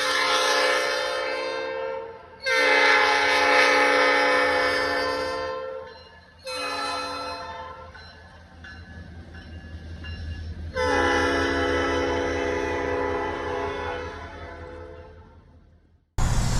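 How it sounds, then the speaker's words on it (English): A train horn sounds in several long, loud blasts with short gaps between them at a railroad crossing, over the rumble of a passing train. "the railroad track, which blows the horn because of the intersection every single time"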